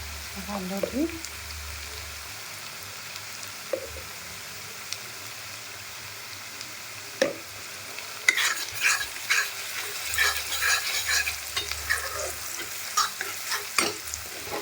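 Cut pumpkin with its peel and peanuts fry in a pan with a soft, steady sizzle. After a quiet start, a spatula scrapes and clatters against the pan in quick, busy bursts of stirring.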